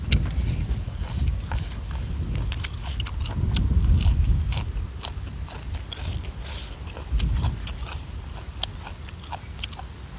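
Grilled snails cooked in a big batch at an outdoor stove are bitten into, giving dense, rapid crunching and cracking up close, with low wind rumble underneath.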